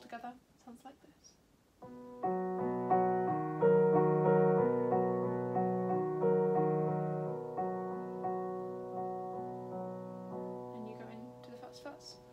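Piano playing a song with both hands in a piano arrangement, low chords with a melody line above, sustained and gradually fading, preceded by brief soft talk and ending with faint voices.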